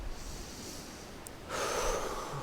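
A single deep breath drawn in slowly through the nose, close and soft against a quiet background with no talking.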